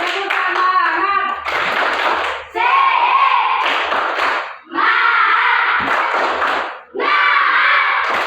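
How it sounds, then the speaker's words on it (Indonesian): A classroom of students performs a rhythmic group clap, several bursts of quick patterned hand claps mixed with chanting voices, loud and close, separated by brief pauses. "Untuk bersemangat kita tepuk semangat dulu."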